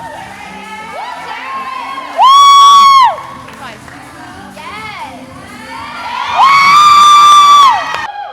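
People cheer and whoop at a bodybuilding posing practice, two loud high-pitched sustained shouts rising over a quieter room with scattered calls and brief talk in between.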